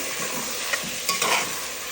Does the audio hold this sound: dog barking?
no